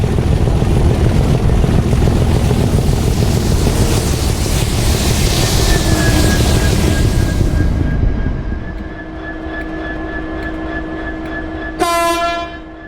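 A railhead treatment train roars past loudly and close on a fast line, a heavy continuous rumble that fades out, with a long horn tone holding through it and a short second horn blast near the end.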